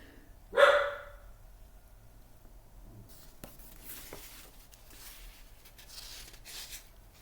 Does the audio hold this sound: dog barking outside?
yes